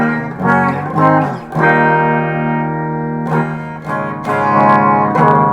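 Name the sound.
electric guitar chords through EVH 5150 Iconic combo amp, built-in reverb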